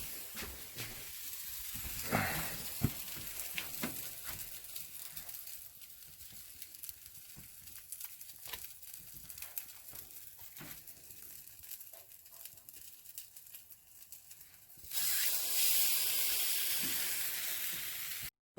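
French toast sizzles steadily in a hot pan greased with cooking spray, a soft continuous frying hiss with occasional pops, which grows louder near the end as fresh sizzling starts.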